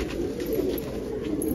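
Pigeons pecking at feed in a loft, with a continuous low cooing murmur close by and no talk.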